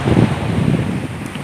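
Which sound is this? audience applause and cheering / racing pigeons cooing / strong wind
strong wind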